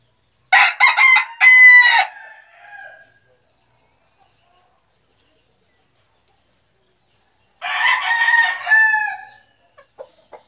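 An imported American bantam rooster crows twice, close and loud, with a long quiet gap between the crows and a few soft clucks at the end.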